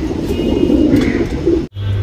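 Caged pigeons coo close by in a continuous warbling murmur, ending with a sudden brief cutoff.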